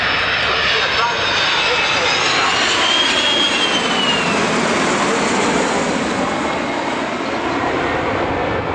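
Aeroplanes roar overhead at an airshow, a loud continuous engine drone with a slowly sweeping pitch as the aircraft pass, with a commentator talking over it.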